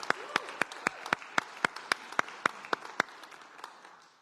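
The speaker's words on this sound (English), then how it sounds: "I think Amy and Dave need to get an applause." Congregation at a church annual meeting clapping for two members: a sparse, distinct run of individual claps at a steady rhythm, fairly quiet and close, then fading out.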